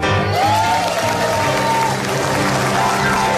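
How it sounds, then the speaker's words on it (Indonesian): Studio audience clapping at a live Indonesian comedy show, a steady, dense wash of applause that fills the whole stretch, with faint voices mixed in. "Jangan tepuk tangan dulu, jangan tepuk tangan dulu"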